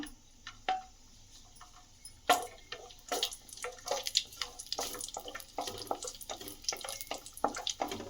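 Cashews fry in a small amount of hot oil, faint, irregular crackles and pops close by, growing busier after the first couple of seconds.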